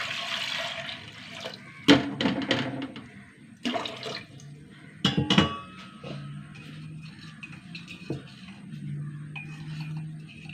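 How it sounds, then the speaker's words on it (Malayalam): Water is poured into a pot of six small washed potatoes for cooking, heard as several splashy bursts of pouring and sloshing separated by quieter gaps, close and fairly loud. "വെള്ളം ഒഴിച്ചു"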